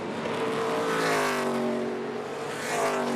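NASCAR Craftsman Truck Series race trucks roar past at the Charlotte Roval playoff race, a loud revving engine note rising and falling as a truck sweeps through a corner, heard alone.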